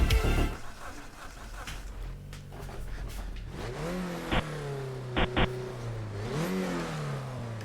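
A race car in a racing video game revs its engine, rising and falling through several throttle sweeps with a few sharp tonal blips, moderately loud and without talk.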